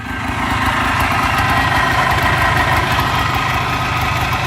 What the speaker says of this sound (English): And once it gets going, it idles pretty well.